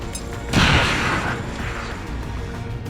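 A deep booming explosion in XCOM 2 erupts, then a dense rumbling roar lingers over steady background noise.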